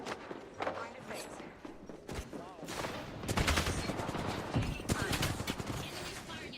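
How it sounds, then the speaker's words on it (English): Enemy gunfire in a video game: rapid bursts of shots and automatic fire crackle at moderate loudness, with footsteps and other game effects mixed in. "Enemies firing at me"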